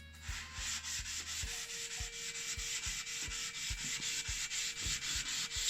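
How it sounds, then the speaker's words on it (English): A CPU's metal heat spreader is lapped on an Nlap lapping tool, working down toward the copper: a steady, gritty sanding scrape runs throughout, with regular soft low thuds marking each back-and-forth stroke. "So now we continue lapping until we get to the copper"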